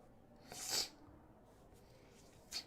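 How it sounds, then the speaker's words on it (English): Two quick, breathy sniffles, the first louder and the second briefer, in an otherwise quiet room. "Apologize for the sniffles."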